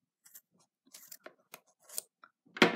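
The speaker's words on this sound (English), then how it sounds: "we're going to chop these ends." Scissors snip through the loose ends of a handmade yarn tassel in one sharp, close cut at the end, after a few faint rustles and handling sounds.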